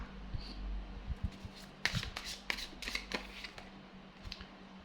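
Tarot cards are handled and drawn by hand in quiet, faint, close flicks and slides. Soft snaps and shuffles come in irregular clusters.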